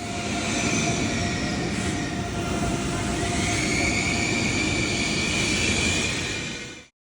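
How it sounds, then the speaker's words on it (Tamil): Steady interior rumble of an ICE high-speed train cruising near 300 km/h in Germany, a continuous broadband roar with faint high whine, heard from inside the carriage with no voices. "High speed train."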